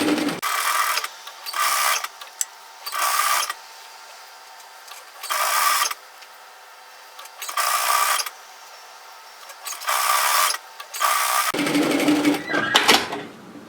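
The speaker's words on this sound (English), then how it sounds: "all I'm going to do is run a line of stitching on that 2 centimetre line" Sewing machine running a line of stitching through overlocked fabric on a cardigan, in six or seven separate bursts of steady whirring with short pauses between them, close and clear.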